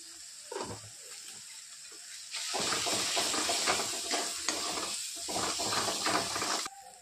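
Onion-garlic masala with asafoetida and salt sautéed in a pan for a spicy black pea curry, giving a steady close hiss and sizzle that grows louder and denser partway through, with scraping stir strokes and no talk.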